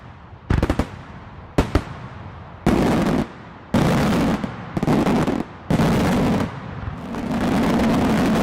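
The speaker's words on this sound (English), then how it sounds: "we've been launching fireworks the wrong way all this time" Fireworks launched at sunset in Thailand: sharp cracking bursts followed by sustained roaring whooshes, each lasting about half a second to a second, loud and close, repeated six or seven times with gaps between.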